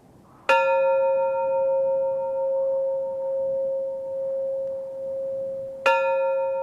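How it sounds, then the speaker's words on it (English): A summit bell rung by a pilgrim on a Sri Lankan mountain gives two clear, bright strikes several seconds apart, each with a long, steady ringing hum that sustains between them over faint background noise. "each pilgrim rings the bell upon arriving at the summit"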